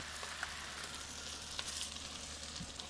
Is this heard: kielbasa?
yes